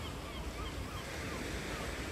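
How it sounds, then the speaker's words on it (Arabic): Ocean waves rolling onto the beach at The Hague in the Netherlands, a steady broadband wash of surf with some wind noise, continuous and fairly loud throughout with no talking. "هذا هو الشاطئ ديالهم هنايا، كيشكروه مزيان"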